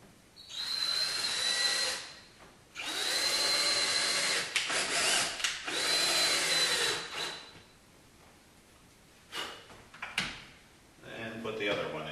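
A power drill driving screws into a wooden interior shutter frame, three long, loud whirring runs in succession, then quieter knocks and handling noises, with short bursts of another run near the end.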